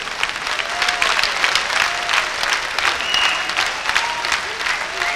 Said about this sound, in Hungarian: Nagy taps, nagy éneklés.